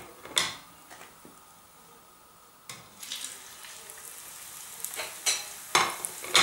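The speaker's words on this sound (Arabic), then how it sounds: "وتوا باش نقليها كعبة البريك" Tunisian brik pastry filled with cheese and harissa frying in oil, a quiet steady sizzle punctuated by sharp crackles and spatters, close up with no voices.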